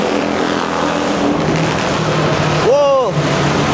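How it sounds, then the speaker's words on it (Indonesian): Street traffic noise rumbles steadily, and near the end a motorcycle revs up loudly and close by, its pitch rising and then falling away. "Bising motor, suaranya berisik."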